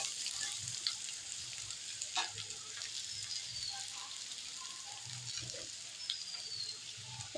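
Sliced onions fry in oil in a wok, giving a continuous close sizzle broken by the scrapes and clatter of stirring, with no talking.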